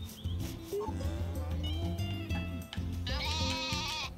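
Sheep in the farming game Story of Seasons: A Wonderful Life bleat in a quick run of wavering, electronic-sounding calls, one after another, clear and close with no talk.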